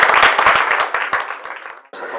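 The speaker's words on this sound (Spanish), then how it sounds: "Un aplauso a la ronda." Audience applause closing a panel round at a biotechnology breakfast meeting, a loud burst of clapping that thins and fades over two seconds before another sound cuts in.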